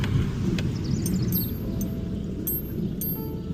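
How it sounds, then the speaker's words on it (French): Airplane passing overhead outside a car on a morning drive, a steady low rumble that fills the clip at moderate level, with faint higher chirps and clicks above it and no talk. "j'ai cru que c'était la voiture qui faisait du bruit, mais c'est un avion."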